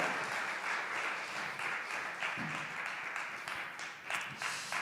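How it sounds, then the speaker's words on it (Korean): A church congregation at a Sunday youth service applauds together, a moderate, somewhat distant wash of clapping that swells and dips in waves across the stretch, with faint voices mixed in. "우리 하나님께 가장 큰 영광의 박수 올려드리겠습니다"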